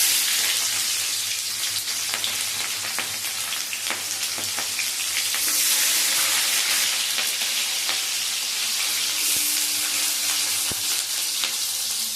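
Chopped onion frying in hot oil in a wok, a steady close sizzle with occasional stirring scrapes, loud and continuous throughout with no talking.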